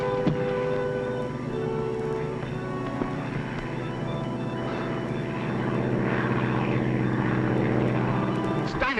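Propeller-driven airplane with a homemade explosive rigged underneath flies overhead, a steady droning engine hum with tonal harmonics holding throughout, while voices speak over it in a 1944 film scene.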